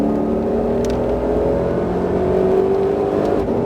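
A Ford Mustang Shelby GT500 pulls hard on a Las Vegas race track, its engine droning steadily with a rising whine from close inside the car, loud and continuous without talk.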